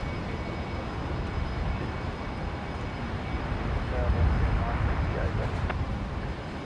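A Velocity 958 airliner departing runway 19 left at Brisbane airport produces a broad, steady engine rumble that swells midway, with people talking over it.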